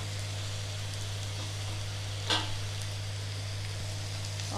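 Okra sizzles in a pan with a lightly softened onion and garlic paste, a faint, steady frying hiss broken by one brief scrape of stirring midway, with no one talking.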